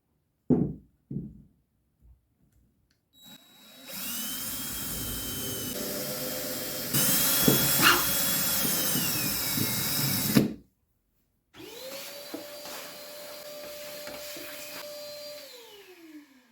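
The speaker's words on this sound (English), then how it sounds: "I got this, what's called a carbide burr set, because I got tired of manually filing out holes that I drilled to make them larger." A carbide burr bit spinning in a drill to widen drilled holes, steady whining buzz in two bursts of several seconds each, separated by a short pause, with a few knocks beforehand; nearby and loud, no talking.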